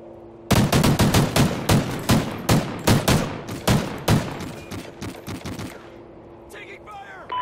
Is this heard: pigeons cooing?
no